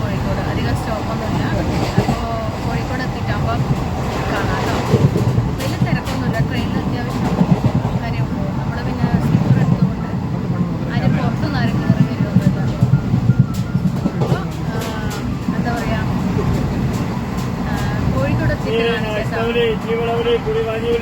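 Steady low rumble and rattle inside a moving train bound for Kozhikode, running continuously under voices chatting nearby throughout.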